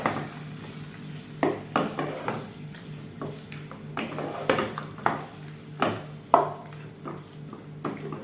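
Thick yogurt is mixed into chicken in a hot pan for shahi chicken kurma, with a soft sizzle beneath repeated spoon scrapes and knocks against the pan, close and steady.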